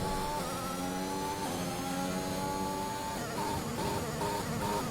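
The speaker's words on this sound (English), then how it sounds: "His teammate with the broken gearbox manages to overtake him. You can physically hear it as well." Race car in the F1 2021 video game with a broken gearbox, its engine droning steadily with rough, stepping pitch changes and uneven gear shifts throughout, loud and continuous.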